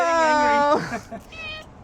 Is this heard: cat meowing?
yes